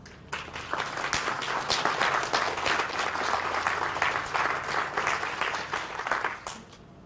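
Warm audience applause at a YWCA ribbon-cutting ceremony for The Meadowlark, building from a few claps into a sustained, fairly distant patter before tapering off.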